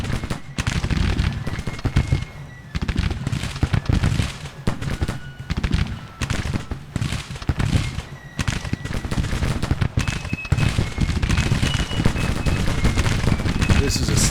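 Battle in Grand Tactician: The Civil War: artillery booms and crackling musket gunfire roll on in dense, overlapping volleys, loud and continuous with only brief lulls throughout.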